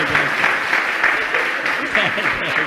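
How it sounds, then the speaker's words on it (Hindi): An audience at a Jain religious discourse claps steadily while a voice talks over the applause. "बजाओ ताली एक बार।"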